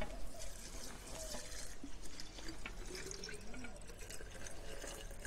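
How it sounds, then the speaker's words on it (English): Water pouring into a glass while making a mojito mocktail, a steady splashing trickle of liquid that runs for several seconds, close and moderately loud with no talk. "our next step, we're gonna pour our water"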